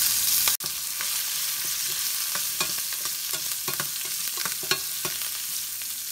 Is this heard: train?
no